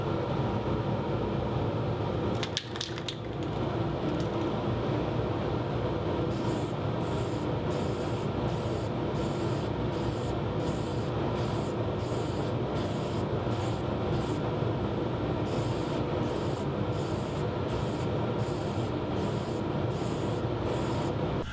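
Lacquer sprayed onto a woodturned piece in several clear coats, a steady loud hiss with a sharp burst early on, then a run of short regular spray pulses toward the end, with no talking.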